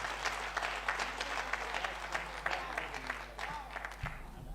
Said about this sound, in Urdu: آج کے اس مشاعرے کی کامیابی پر بھرپور تالیوں سے استقبال کیجئے